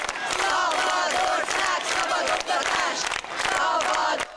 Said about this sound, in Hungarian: A beszédek közben többször is skandálásban tört ki a tömeg.